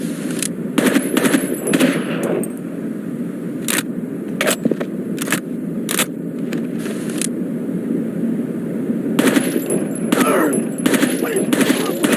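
Gunfire from the video game Rainbow Six 3 cracks out in rapid automatic bursts and single shots, loud and close, clustered at the start and end with a sparser stretch in the middle.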